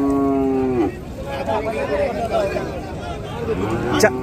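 Cows moo loudly at close range at Chaubaria cattle market, one long low call at the start, over a busy background of many people chattering.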